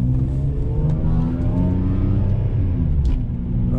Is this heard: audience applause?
no